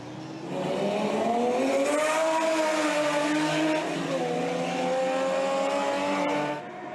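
Historic racing cars roar around the Circuit des Remparts street course, a loud sustained engine note rising and falling with gear changes before fading.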